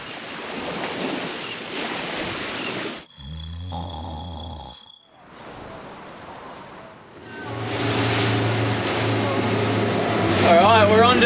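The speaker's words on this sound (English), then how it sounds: "Check out the waves behind you though" Ocean waves wash onto a beach on a windy day near a sailing boat at sea, a roaring surf broken by gusts and bumps of wind against the microphone, with voices talking over parts of it.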